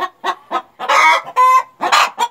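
Hens and pullets cluck in a run of short calls and longer, louder cackles, close and clear with no talking. One of the tame hens has a bare neck.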